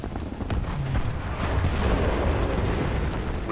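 Grenade explosions in a first-person shooter roar loudly and continuously, a dense rumbling blast wash filling the whole stretch without clear separate booms.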